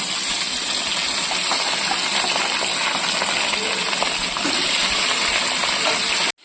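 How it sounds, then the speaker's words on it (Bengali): Fish pieces frying one by one in very hot mustard oil in a wok, a loud, dense, continuous sizzling hiss close up that cuts off abruptly at the end. "তেল খুব ভালো গরম হয়ে গেছে এবার একে একে মাছ ছেড়ে ভেজে নিচ্ছি"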